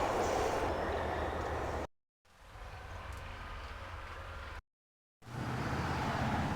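A train rumbles past on a railway line in a PC adventure game, a loud continuous roar that cuts out abruptly twice and then resumes.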